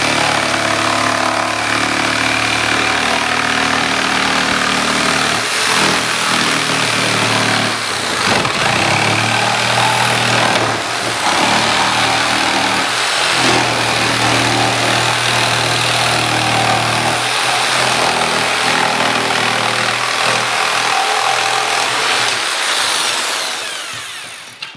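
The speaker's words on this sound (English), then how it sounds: "We're just gonna use our jigsaw. We're gonna cut that circle out." A jigsaw cuts a circle out of a panel in a continuous, loud buzzing run that lasts more than twenty seconds, its tone shifting slightly as the blade follows the curve, then it winds down at the end.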